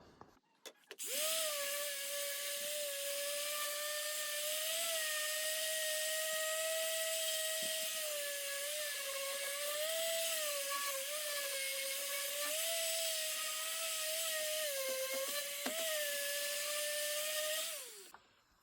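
A steady, loud whine of a power sander running continuously on an old floor during a renovation, its pitch wavering slightly, starting abruptly and cutting off near the end.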